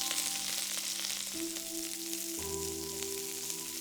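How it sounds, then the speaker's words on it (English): Asparagus pieces fry in extra virgin olive oil in a pan, giving a steady close hissing sizzle with faint crackles, while a low background hum shifts pitch a couple of times. "A swirl of extra virgin olive oil, and add your asparagus pieces."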